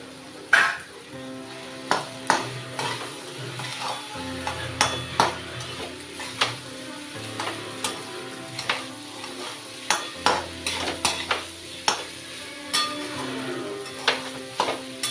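Sabudana khichdi fries in a pan while a spoon stirs it, giving a soft continuous sizzle punctuated by regular sharp scraping and tapping clicks against the pan, with no talk.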